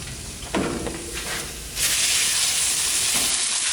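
Broccoli shallow frying in plenty of oil over high heat, giving a close, steady sizzle that jumps louder partway through and then holds as a dense, continuous hiss.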